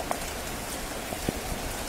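Rain falls steadily in Ludhiana, a dense even hiss of drops striking surfaces, with a couple of slightly sharper nearby drips.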